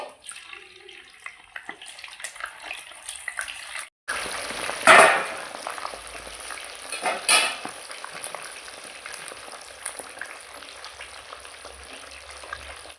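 Small fish fried crisp in a pan of hot oil for a Telangana-style fish fry: a steady close sizzle with louder bursts of spatter as pieces are turned, and no talking.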